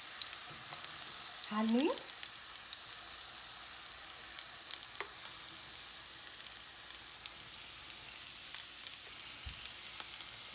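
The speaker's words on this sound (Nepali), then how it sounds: "तेल हल्का तातेपछि यसलाई एउटा एउटा गरी राख्नु होला" Eggplant rings fry in hot oil in a home kitchen, giving a steady, soft sizzle throughout. A voice speaks briefly near the start, and a few light clicks of utensils sound over the frying.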